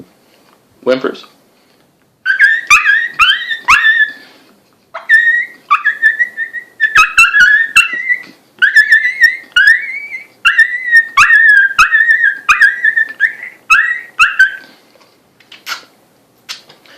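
Coyote whimpers imitated by a person on a FOXPRO Gundog diaphragm call, a run of short high whiny squeals and yelps in quick bursts, close and fairly loud, with brief gaps between series.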